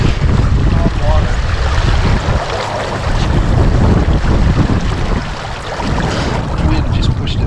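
Strong wind blasts across a microphone beside a river while fishing for smallmouth in cold water, with loud continuous buffeting rumble and water wash that surges and eases in gusts.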